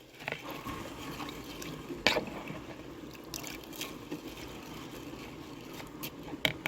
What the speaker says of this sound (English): Rinsing the rice in cold water.